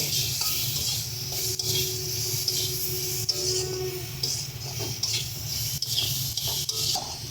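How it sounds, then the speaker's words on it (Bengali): Vegetables are stirred with spices in a pan, a close, continuous rubbing and scraping texture with a soft sizzle underneath and a few sharper knocks, with no speech. "মশলার মতো সাথে আমরা সবজিগুলো কষিয়ে নিচ্ছি"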